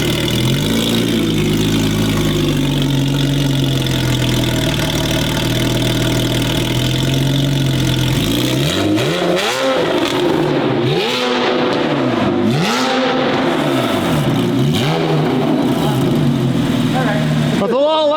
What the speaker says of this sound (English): First start of the valtronic full exhaust, the 911, old man Porsche.